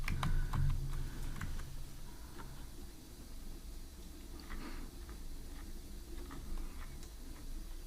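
Code is typed on a computer keyboard while building an Android app in Kotlin, heard as quiet, close, irregular key clicks that are quicker at the start and then sparse, with no talk.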